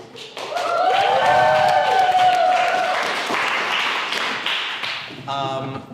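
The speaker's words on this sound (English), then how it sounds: "let's give them a round of applause." Audience applause at a live comedy show, sustained and loud for several seconds with excited voices and a tonal whoop riding over the clapping, tapering toward the end as a voice speaks.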